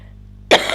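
A single sharp, close cough breaks a near-silent pause, loud and abrupt with a short rough tail.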